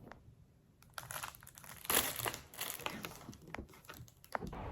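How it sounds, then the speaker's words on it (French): An Amazon parcel is unwrapped, with crinkling and rustling of packaging in close, irregular bursts and a louder crumple near the middle, with no voices. "Je vais le déballer vite fait."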